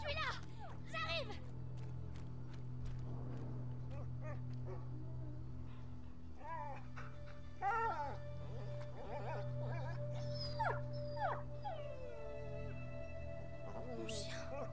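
A dog whimpers and yips in A Plague Tale: Innocence, with several short, high, wavering whines over a steady low game ambience and music bed, heard at moderate distance.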